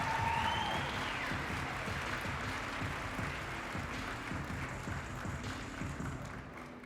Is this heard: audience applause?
yes